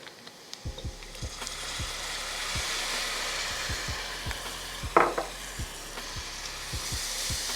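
Vegetables with sauce stirred in a hot pan, steady sizzle with a regular series of spoon taps and scrapes against the pan and one louder clatter midway, close-up and without speech.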